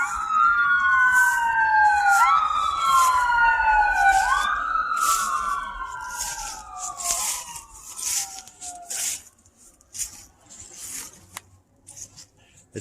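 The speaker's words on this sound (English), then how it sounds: "you can hear the sirens going by." Wailing sirens sweep up and down as emergency vehicles pass by out in the country, loud at first and then fading away, leaving a quiet rustle behind.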